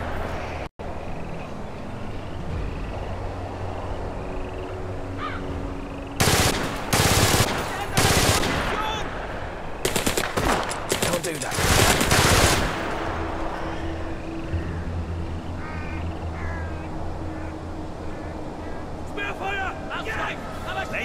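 Machine gun fire rattles out in loud bursts during a World War II tactical battle in the video game War Mongrels, set against a steady hum of background noise, with a voice calling out in between.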